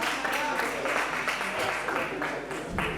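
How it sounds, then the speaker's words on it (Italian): Audience applause at a concert, a steady moderate wash of clapping mixed with crowd noise and some voices, continuing throughout. "Un applauso di incoraggiamento!"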